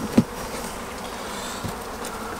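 Honeybees buzzing around an opened hive during feeding, a soft steady hum with a brief knock near the start.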